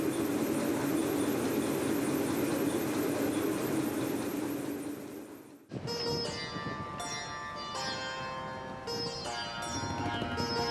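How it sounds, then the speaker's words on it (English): A train crosses the nine-arch bridge in Sri Lanka, a loud continuous rumble and rolling noise that cuts off abruptly midway, followed by sustained tonal ringing and clatter. "Our train crosses the emblematic 9-arch bridge."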